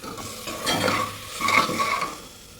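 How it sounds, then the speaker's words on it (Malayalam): Mutton curry masala being stirred in a pan, two soft scraping strokes of a spoon against the pan with a faint sizzle underneath, close and quiet. "ഇതെല്ലാം ഒന്ന് മിക്സ് ചെയ്യാം നല്ലപോലെ"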